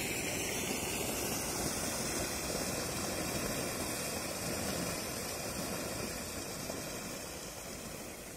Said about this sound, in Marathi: काय शांत वाहणारा धबधबा आहे बघा